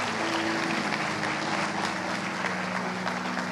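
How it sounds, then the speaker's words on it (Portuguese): Congregation applause at a church service, a continuous wash of many hands clapping at steady loudness, with a faint sustained tone beneath and no speech over it. "Você pode dar uma salva de palmas a Jesus por isso?"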